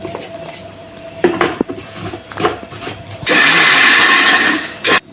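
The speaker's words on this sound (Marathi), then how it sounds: "हे आता वाटाणा मी मिक्सरमध्ये बारीक करून घेत आहोत" A kitchen mixer grinder coarsely grinds peas in short bursts. Clinks and rattles of the jar come first, then a loud steady whir of the blades for a couple of seconds before it cuts off.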